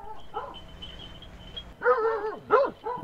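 Hunting dog barking outdoors, caught by a trail camera in a field with wildlife nearby: a soft whine early on, then several loud, close barks and yips in quick succession near the end, with no talk.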